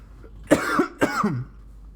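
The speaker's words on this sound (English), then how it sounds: "you guys have to hear me cough like that" Two sharp coughs in quick succession, close and fairly loud, with a short pause between them.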